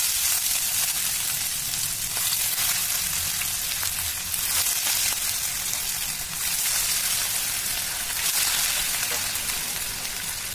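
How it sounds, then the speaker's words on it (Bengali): Katla fish fries in hot oil, a dense, even sizzle that hisses steadily at moderate loudness from start to finish. "তেলটা গরম হয়ে গেলে মাছগুলো আমি ভেজে নেব।"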